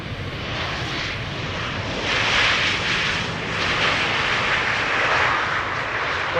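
An airliner in Peter Pan livery arriving from Samos roars past fairly close, its jet engine noise swelling after a couple of seconds and holding as a loud, continuous rush.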